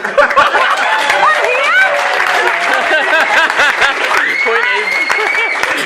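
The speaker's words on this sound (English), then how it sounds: "Round of applause." Wedding guests break into a round of applause during a best man speech, a loud sustained patter of many hands close by, mixed with chatter and a few laughs from the crowd.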